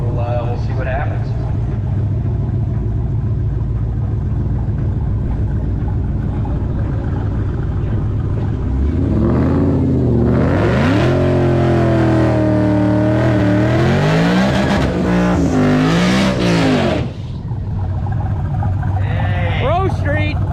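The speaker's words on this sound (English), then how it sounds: "that's how you do a burnout, Greg." At the drag strip a turbocharged LS drag car does a burnout, its engine rumbling and revving loudly and climbing through rising pitch sweeps, with people talking over the noise.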